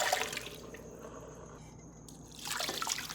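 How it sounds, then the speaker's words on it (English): Water is poured into a pot of browned meat for a pot roast, with a bubbling, trickling pour at the start and end and a quieter stretch between, close and moderately soft. "I'm going to add the water."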